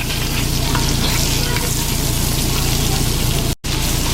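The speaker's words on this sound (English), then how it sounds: "once it melts, I'm going to add the shallots" Shallots sizzle loudly and close up in melted butter, a dense, continuous crackling fry that holds steady before cutting out for a split second near the end.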